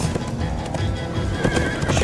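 A galloping horse in the Minecraft Story Mode video game, Episode 5, with rapid clip-clopping hooves and a whinny over a busy backdrop, brief and close.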